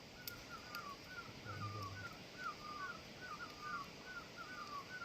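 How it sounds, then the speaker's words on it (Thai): Crows caw repeatedly in a forest, a run of short harsh calls coming in quick clusters at middle distance over a soft outdoor background, with no talk. "เสียงนกฟังเสียงนก"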